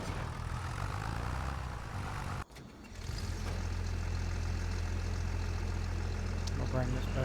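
A tractor engine in Farming Simulator 25 drones steadily at idle, loud and low, cutting out briefly before resuming a heavier constant hum.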